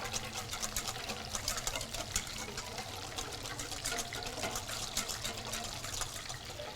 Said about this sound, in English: We'll just give that a quick whisk.